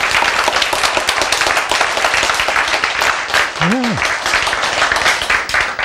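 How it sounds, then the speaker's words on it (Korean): Audience applause from a lecture crowd, a dense continuous wash of clapping that fills the whole stretch at steady loudness, with a brief voice sound rising through it near the end. "박수!"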